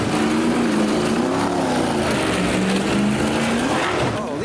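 A drift car at a supercar show sends out a loud, steady engine roar with a wavering tone and a broad hiss of tire squeal and skidding, sustained for several seconds close by.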